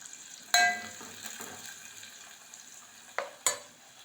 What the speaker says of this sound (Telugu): ఉల్లిగడ్డలు వేస్తున్నాను చూడండి.